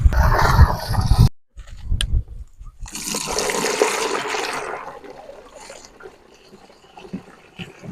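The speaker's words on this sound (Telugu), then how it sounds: "మళ్ళీ ఒక బిందెతోటి మొత్తం ఈ డ్రమ్ము మొత్తం నింపేయాలండి" Loud rushing water gushes into a drum from a pot, stops briefly, then surges again before gradually tapering off.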